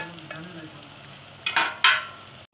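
Onions deep fry in very hot oil for a fish curry, a soft steady sizzle with two sharp louder bursts of spitting near the end before it cuts off.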